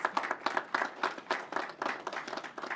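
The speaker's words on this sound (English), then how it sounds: "Let's give them a round of applause." A small crowd claps for a police recruit class, a brief burst of fairly close, irregular hand claps with no voices.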